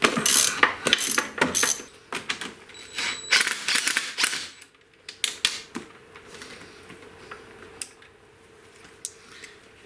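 A hand ratchet works loose the upper shock bolt, a T50 Torx with a 15mm nut, on a BMW R1200GS motorcycle, giving rapid close clicking bursts that loosen into slower sparse clicks.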